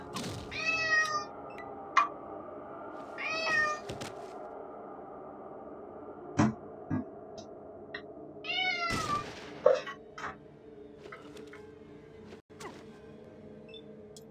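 Hungry cats in the video game Fallout 2 meow repeatedly in thin, plaintive cries spaced irregularly, with several clicks and soft game noises between them.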